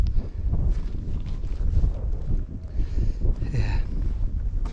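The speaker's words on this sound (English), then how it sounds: "It is a nice breeze blowing here" Steady breeze buffeting the microphone on an open hilltop at Bewcastle Fells, a continuous low rumbling gust with slight swells in strength, close and fairly loud throughout.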